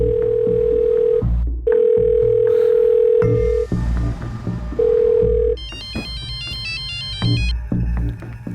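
Landline telephone ringing in repeated electronic tones, several long steady bursts followed by a warbling trill, loud and close with music-like background and no talk.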